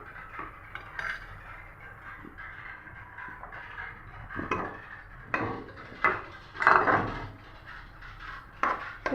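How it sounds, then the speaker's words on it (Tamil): Cooked chicken is tipped into tomato masala in a pan for chicken biriyani and stirred, giving irregular close clanks and scrapes of a metal spoon against the pan, growing louder and busier toward the end. "இந்த டயத்தில் நம்ம வேக வச்சுருந்த சிக்கனை போட்டுடலாம்."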